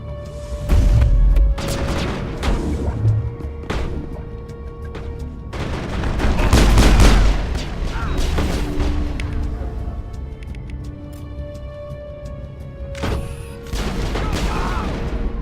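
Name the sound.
gunfire in combat, from the video game Mass Effect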